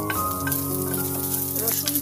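Chopped ginger, garlic cloves and cinnamon fry in hot oil for a raw mango pickle, a brief close crackling sizzle with a faint ringing hum behind it, no speech.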